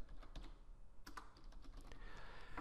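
Quiet typing on a computer keyboard, a run of light irregular key clicks with a few sharper taps, close and alone without speech.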